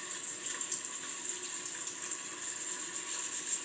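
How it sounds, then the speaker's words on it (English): Tap water runs steadily over an MSR MiniWorks EX water filter while it is lightly scrubbed with a scouring pad, a close, constant hiss of flowing water with faint rubbing beneath. "I'm lightly going to scrub it and get everything that might be building on the outside of it from the filtering"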